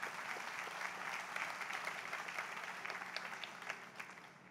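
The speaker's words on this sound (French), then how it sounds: "Vous pouvez les applaudir, bien sûr." Audience applause at a 2022 graduation ceremony in Lebanon, dense steady clapping from a sizable crowd that holds evenly and thins slightly toward the end.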